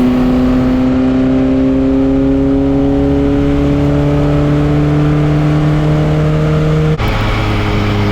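Racing pickup truck engine at Silverstone droning steadily at held revs while pulling into the long pit lane, loud and close with a rising harmonic whine, then a sudden drop in pitch near the end as it slows.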